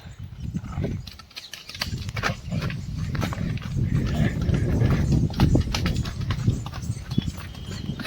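Horse hooves clip-clop in a steady walking rhythm during a horseback ride, close and fairly loud, with rustling and a little background noise throughout.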